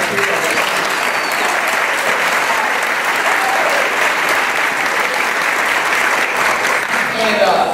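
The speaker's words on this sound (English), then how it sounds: "I appreciate that applause" Loud, sustained applause from a large crowd packed into a city meeting, a continuous dense roar of clapping that holds steady throughout with no talk breaking through.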